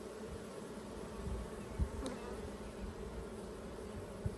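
A honeybee emerging from its wax cell in a backyard hive gives off a faint, steady buzz with a soft, even hum under low background noise.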